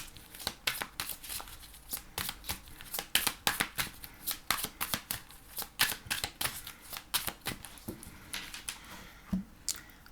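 Mitre Tarot cards are shuffled and cut by hand in quick, close, rhythmic riffling bursts, crisp papery flutters repeating steadily with almost no talk.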